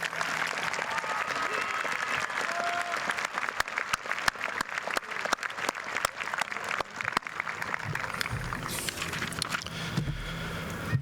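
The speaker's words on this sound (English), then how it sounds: "Folks, let's give all these students one more round of applause" A large crowd at a high school commencement ceremony applauds graduating students in a long, sustained round of dense clapping from a distance, with a few louder claps up close and some cheering near the end.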